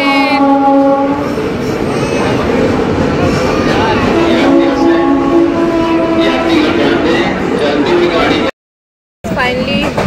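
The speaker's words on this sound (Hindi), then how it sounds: "आ गई गाइस ट्रेन।" Passenger train pulling into a station on the Lucknow to Gorakhpur route, its horn sounding in long steady tones over rumbling cars and clatter, loud and close amid a busy platform with voices around.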